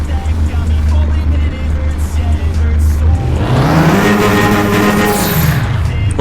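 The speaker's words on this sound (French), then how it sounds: "On entend le turbo." Peugeot car engine in the RealCar Parking 2 video game, a steady low drone that rises into a loud revving climb with a turbo whine, continuous and close throughout.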